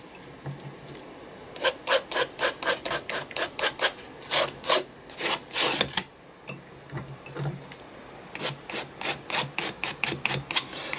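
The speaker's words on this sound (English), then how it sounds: "I'm just going to grab that and just scrape it down" A spatula scraping acrylic paint across an art journal page, giving a long run of rhythmic, close rasping strokes with a short pause midway.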